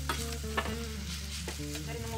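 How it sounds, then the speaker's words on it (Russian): Finely chopped onion fries in vegetable oil in a heated pan, a soft, steady sizzle under a low tonal hum, quiet and continuous with no talking. "На сковородку разогретую наливаем растительное масло. Добавляем мелко порезанный лук. И обжариваем его до золотистого цвета."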